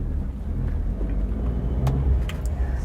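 Car engine pulling away in first gear, a close, steady low rumble from inside the moving vehicle with faint clicks over it.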